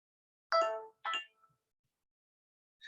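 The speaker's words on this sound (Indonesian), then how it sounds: "mesti ada telepon dari pasien ini" A doctor's mobile phone rings with a patient calling: two quick tonal chime bursts, then a pause and the start of another. They are clear and close, with no speech during the ring.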